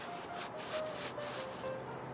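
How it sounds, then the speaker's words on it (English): Rhythmic back-and-forth rubbing of 220 grit sandpaper smoothing the corners of a wooden replica machine gun prop, several short strokes in a row, close and fairly quiet. "I'll use 220 grit sandpaper to smooth over the corners"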